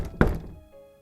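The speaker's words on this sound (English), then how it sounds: "Knock, knock." A single dull thunk of a knock against a door lands sharply, then a low resonance fades away into quiet, with no voices.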